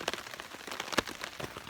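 Rain patters on a nearby surface, soft and close, with scattered individual drops tapping irregularly.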